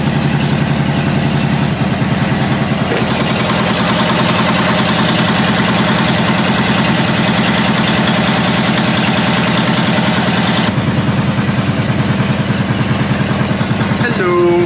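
A boat's engine idles steadily and loudly throughout, a continuous low drone close by, with people talking over it.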